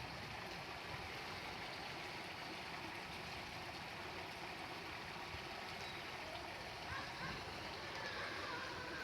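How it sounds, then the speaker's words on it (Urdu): Rainwater pours steadily into graves along a neighborhood street, a constant rushing wash of flowing water that holds at an even level throughout. "یہ جو بارش کا پانی ہے سب خراب قبروں کے اندر جا رہا ہے"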